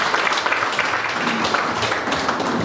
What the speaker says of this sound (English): Big round of applause again